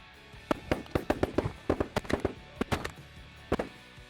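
Shotguns fired at waterfowl such as mallards, snow geese and Canada geese while field hunting in North Dakota: a rapid, overlapping volley of a dozen or more sharp blasts from several guns, some near and some farther off.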